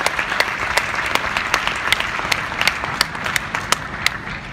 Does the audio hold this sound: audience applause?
yes